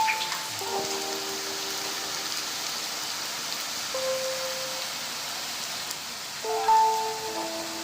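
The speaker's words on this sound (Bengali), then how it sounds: "সবগুলো দিয়ে দিলাম এখন আমি আস্তে আস্তে করে ভেজে নেব" Vegetables fry slowly in a pan with a steady, soft sizzle and hiss that runs throughout, with a few faint tonal hums in the background.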